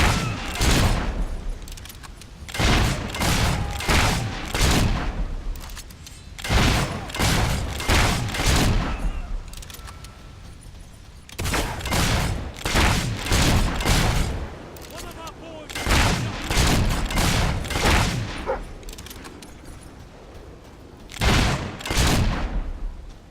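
Gunfire from the video game Fable III comes in loud, repeated bursts of rapid shots with short lulls between volleys.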